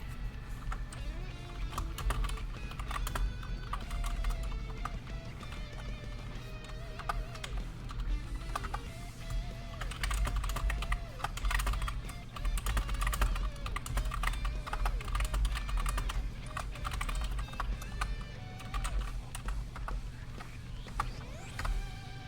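Clicky typing on a computer keyboard, a steady close stream of rapid key taps running throughout over a low constant background hum.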